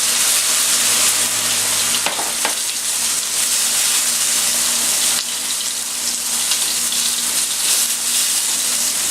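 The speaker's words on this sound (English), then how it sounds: "I'm going to go ahead and add this fresh lemon juice and stir it around." Fresh lemon juice stirred into butter sizzling in a pan while cooking redfish almondine: a steady, loud frying hiss fills the whole stretch, with a brief liquid splash and stirring noise near the start.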